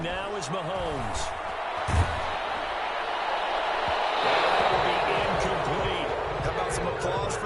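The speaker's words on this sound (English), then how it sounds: "Some applause for the defense there" Crowd noise swells in an American football video game, a broad steady roar of applause for the defense with a brief thump near the start and a commentator talking over it throughout.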